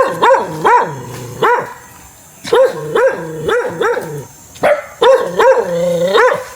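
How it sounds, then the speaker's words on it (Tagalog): A dog barks loudly and close by in three quick bursts of several sharp barks each, separated by short pauses, with no other sound competing. "Aso lang nandito, ayan oh."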